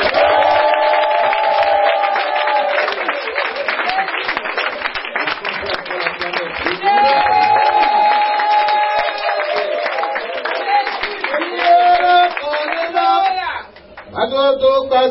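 A church congregation at a Sunday thanksgiving service claps and cheers loudly and continuously, a dense crowd roar with rhythmic clapping and sung or shouted voices, dipping briefly near the end before resuming.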